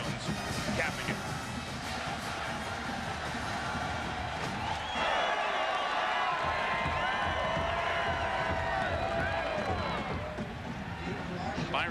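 A rabid college football stadium crowd at a 2002 Marshall vs Virginia Tech night game roars steadily in the background, swelling louder midway, beneath continuous play-by-play commentary.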